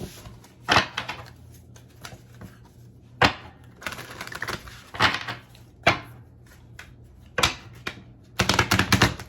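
Repeated crisp slaps and riffling clicks of tarot cards being shuffled, in irregular bursts, ending with a quick flurry.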